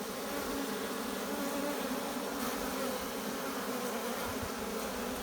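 Dense, steady buzzing of many honey bees close by during a hive removal and relocation, a constant droning hum with no pauses.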